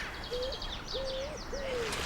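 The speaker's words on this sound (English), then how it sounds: "It's a bird or something." A bird repeats three evenly spaced whistled calls, each a short rising-then-falling note, over faint background chirps and steady outdoor ambience, with no talking.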